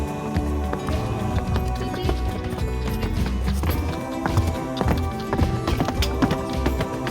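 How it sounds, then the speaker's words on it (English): A donkey walks along the rocky paths of Petra, its hooves clip-clopping in a steady, close rhythm over a busy outdoor background. "Oops, stubborn donkey."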